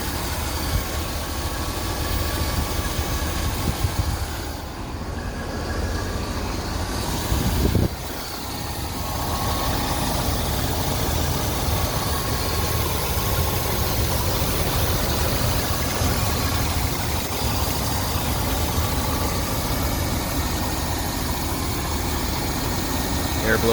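A 1988 Bentley Eight's engine idles steadily up close, a low continuous hum and rumble with a brief shift partway through, while a person talks over it.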